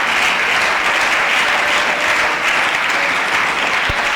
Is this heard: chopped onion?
no